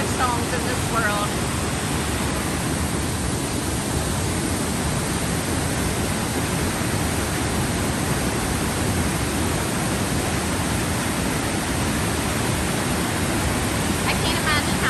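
Blackwater Falls in West Virginia in winter, a steady, dense roar of falling water filling the whole stretch at constant loudness, with faint voices underneath.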